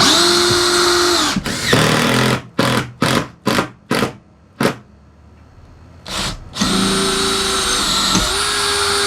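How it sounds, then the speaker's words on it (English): A power drill drives self-drilling screws into the steel framework of an MCI bus conversion, with long high whines at the start and end and a series of short, sharp bursts between them. "out here I'm using self-drilling screws going right into the steel framework"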